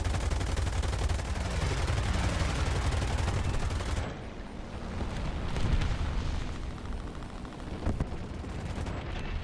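Aircraft guns hammering away at an FW-190 in War Thunder, a dense, continuous roar of rapid fire mixed with engine drone, loud for several seconds before easing slightly, then swelling again.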